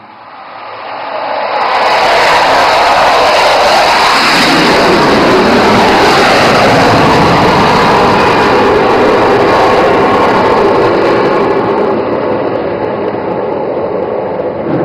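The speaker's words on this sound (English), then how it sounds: "And now Abhimanyu 2 and 3 will carry out a low overshoot over the ELF and number 1 will land." Fighter jets at an airshow in Dibrugarh, Assam make a low overshoot past the crowd, a loud sustained jet roar that swells within two seconds and holds steady before easing slightly.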